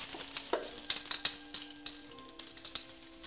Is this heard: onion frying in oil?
yes